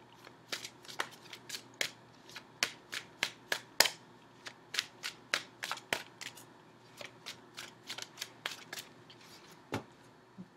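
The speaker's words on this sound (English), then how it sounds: "So let me pull the outcome card." Tarot cards riffle and snap sharply one after another in a long irregular series of crisp flicks, close and fairly quiet over a faint steady background hum, with no voices.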